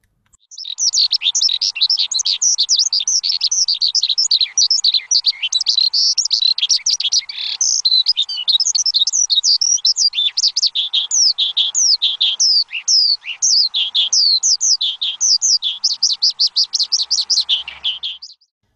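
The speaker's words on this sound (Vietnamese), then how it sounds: "đó chính là tiếng hót của chim chiền chuyện đấy" A Eurasian skylark sings a long, continuous stream of rapid, high, twittering trills and chirps. The song is clear and close, with no voices over it.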